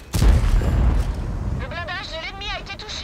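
A single loud tank cannon shot from a wheeled light tank, the EBR 105, bursts out sharply in a World of Tanks battle, then its rumble decays while a voice speaks over the tail.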